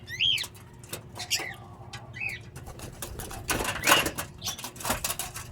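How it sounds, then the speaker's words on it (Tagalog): Pet pigeons coo softly several times, with bursts of flapping wings and rustling nearby and a steady faint background hum. "Itong mga kalapati natin, bibigyan na rin natin yan sila siyempre para hindi na sila nagkukulit."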